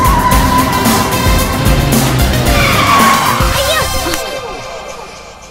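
A car brakes hard, its tires skidding with a loud, rough screech that holds for about four seconds and then fades into quiet.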